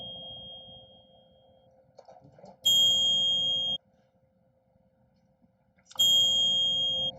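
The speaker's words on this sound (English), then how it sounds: "And we click that little bell" Two bright, ringing notification bell dings, a few seconds apart, each sustaining for about a second over a quiet background.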